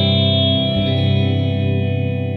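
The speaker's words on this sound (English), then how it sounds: "So this is the plate reverb." Rich sustained tones played through a large metal plate reverb unit ring out densely, shimmering and slowly fading with a smooth metallic tail.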